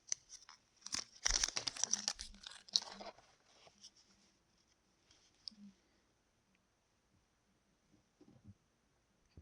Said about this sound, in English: They come with like a cellophane around it.